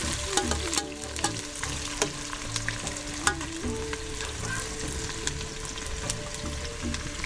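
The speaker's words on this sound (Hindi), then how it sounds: "प्याज को थोड़ा सुनहरा होने तक हम लोग भूनेंगे।" Onions sizzling and frying in a pan with about half a kilo of meat for a traditional Jharkhand dish, a dense continuous hiss with scraping stirs throughout, close and fairly loud, no voices.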